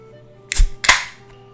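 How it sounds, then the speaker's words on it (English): Can of Coke Zero cracked open: a sharp click followed by a brief hissing burst, close and loud, alone. "Gotta crack open a cold one."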